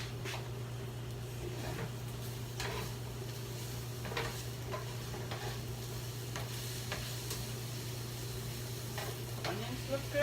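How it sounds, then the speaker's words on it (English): Onions simmering in a pan for vegan bean spaetzle, a steady low hiss and bubble with a constant background hum and occasional soft taps of stirring. "Start simmering."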